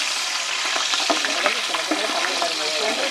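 Green chillies frying in a hot pan for a Pongal non-veg dish, a steady close sizzle with crackles and stirring scrapes throughout.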